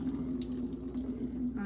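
Salt water drains from a can of ackee into a kitchen sink, a faint steady trickle and splash that runs continuously.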